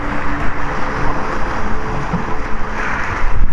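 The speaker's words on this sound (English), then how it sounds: "I listen intently to the waves" Ocean waves washing steadily against the shore with wind across the water, a continuous close rush of surf that swells and recedes without any voices.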